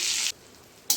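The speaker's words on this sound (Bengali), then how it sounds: "এবার ডিমটা ভালো করে ভেজে নেব।" Egg sizzling in a hot pan of oil for chicken dak bungalow, short bright bursts of frying hiss at the start and end with a quieter gap between.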